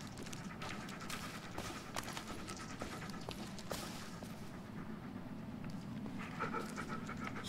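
A dog pants steadily in the Blair Witch video game, with fast breathy huffs running on without a break and no talk over them.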